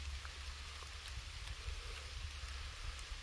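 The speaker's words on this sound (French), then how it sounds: "regardez, il commence à pleuvoir alors que c'était très sec" Steady light rain falling in a dry forest, a dense even patter with faint individual drops, continuous and moderately close, with no voices.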